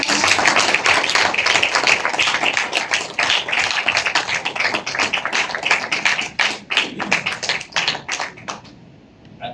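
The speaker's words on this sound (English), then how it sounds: "Can we give those applause until he gets to the podium?" Applause from an audience at a regional council signing ceremony, dense close claps at first that thin into scattered individual claps before dying away.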